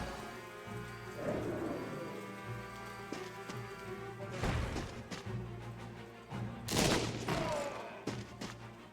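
Artillery and massed musket gunfire in the video game Banner of the Maid crackle in ragged volleys over a low rumbling bed, with heavier blasts building near the end.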